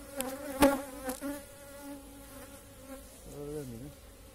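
Honeybees buzzing around an opened two-storey hive just out of winter during an early spring inspection, a close droning hum with individual bees passing near and a few handling knocks.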